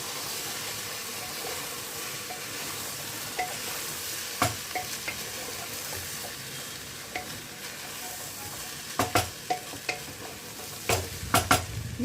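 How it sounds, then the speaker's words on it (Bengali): About two and a half bowls of rice fry with tehari spices in a pot for a one-pot meal, with a steady sizzle broken by sharp scrapes and knocks of stirring. "সমস্তটাকে ভালো করে ভাজা ভাজা করে নেব।"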